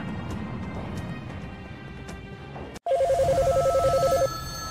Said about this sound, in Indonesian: Hotline NASA terus-terusan berdering.